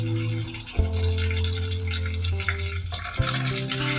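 Cloves, cumin seeds and curry leaves sautéing in a hot pan, a steady close sizzle with brief stirring scrapes and shifts in tone partway through, no voices.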